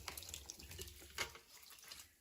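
Liquid whey pours through a fine mesh strainer and drains, giving a soft, close splashing trickle that tapers off toward the end, with no talking.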